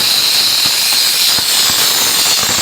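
Pressurised gas hisses out of the relief valve of an LPG compressor in a loud, steady, close-up rush that does not let up, with faint mechanical knocks underneath.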